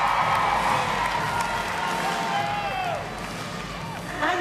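Home crowd cheering at the women's final of the 2022 World Artistic Gymnastics Championships, a steady roar of shouts and applause from a large arena, with whistles and a commentator talking over it.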